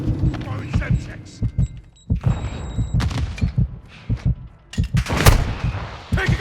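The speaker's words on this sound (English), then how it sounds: "Throwing Semtex." A Semtex grenade explodes amid gunfire during a Call of Duty MWII match, with loud, repeated heavy thuds and punchy bursts in an uneven rhythm. Brief lulls break up the blasts, and a denser flurry of shots comes toward the end.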